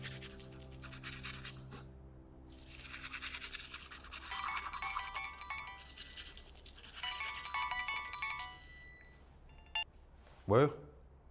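A mobile phone rings with faint, repeating electronic ringtone bursts over a low background hum, quiet and somewhat muffled, followed by a short voice at the end.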